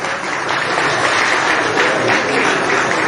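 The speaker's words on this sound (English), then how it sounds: "Please clap for the young Chidinma." An indoor audience of Nigerians at an interactive session applauds continuously, a loud, dense wash of many hands clapping together without a break.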